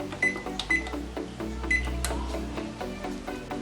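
An oven control panel being set to preheat to 350 degrees, several short electronic beeps in quick succession, then another cluster of tones over a low hum.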